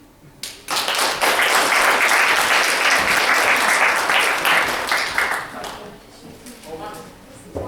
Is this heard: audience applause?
yes